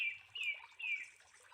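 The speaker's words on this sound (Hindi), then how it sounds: "चिड़ियों की आवाज़, झरनों की आवाज़, हवाओं की आवाज़ आ रही है।" Birds chirp in three clear, rising calls spaced about evenly, fairly close and alone, with only a faint low hiss beneath and no distinct waterfall or wind roar.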